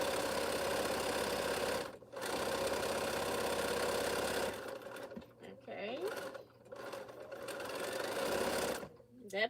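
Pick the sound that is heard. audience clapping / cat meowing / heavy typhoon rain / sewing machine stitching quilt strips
sewing machine stitching quilt strips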